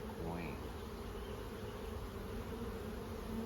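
Honeybees swarm around an opened hive during a hive split, a continuous soft, even buzz of many insects close by with no talking.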